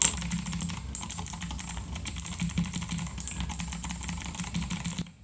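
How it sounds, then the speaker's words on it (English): Rapid clicky keystrokes on a Gamdias Hermes P1A mechanical keyboard with TTC blue switches, a dense close-up rattle of sharp clicks that runs continuously, then ends with a final few taps. "Let's give those switches, let's give these keys a listen."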